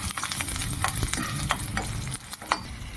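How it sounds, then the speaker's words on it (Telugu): Garlic cloves fry in hot oil for an amla (usirikaya) pickle, giving a steady, close sizzle with scattered crackles and stirring clatter throughout, with no voices. "నూనె వేడెక్కిందండి ఫస్ట్ మనం తెల్లగడ్డలు వేసుకుంటాము తెల్లగడ్డలు వేయించుకుంటాము"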